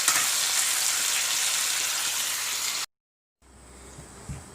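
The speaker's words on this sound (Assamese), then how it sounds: "এতিয়া মাংসখিনি আমি আলুখিনি যোগ কৰি দিম আৰু লৰাই দিম।" Potatoes go into a pan of frying chicken curry and are stirred, first under a loud, steady sizzle that drops out suddenly, then with quieter frying and a few stirring knocks.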